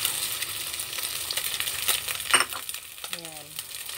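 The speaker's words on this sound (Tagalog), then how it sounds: "Ready na yung ating frying pan. Ilalagay na natin yung na-mix na sangkap." An omelette rice mixture hits a hot frying pan and sizzles softly, with a faint stir or scrape and a brief metallic clink near the end.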